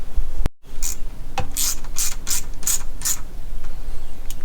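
Ratchet tightening a part back into a SeaDoo engine block: a sharp click, then a rapid series of about six loud, evenly spaced ratcheting clicks, close and mechanical.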